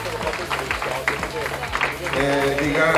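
An audience at a Triveneto talent show stop in Solesino, Padova, applauds, a short burst of steady clapping under a speaker's voice.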